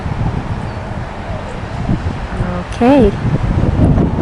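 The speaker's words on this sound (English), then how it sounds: "it's windy today." Wind blows outdoors by a nest at a nature center, a low rumbling gust noise buffeting the microphone throughout, with a person speaking briefly and a bird call rising above it.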